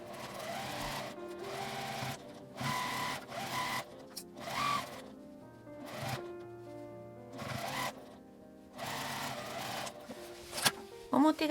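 A sewing machine stitches a seam end to end on a shoulder drawstring bag, running in several bursts of whirring stitching separated by short pauses, close by, with a little soft handling noise.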